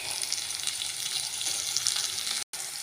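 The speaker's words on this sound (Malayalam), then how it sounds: "ഇതിലേക്ക് നമുക്ക് തക്കാളി ഇട്ട് കൊടുക്കാം." Chopped tomatoes dropped into a hot pan of oil for a Kerala-style fish curry, giving a loud, steady, close sizzle with a brief dropout near the end.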